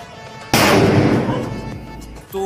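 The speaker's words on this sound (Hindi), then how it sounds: "तो काफी तेज धमाका हुआ।" A large aloo bomb Diwali firecracker goes off in one sudden loud blast, with a rumbling roar and echo that fade over about two seconds before another sharp sound starts.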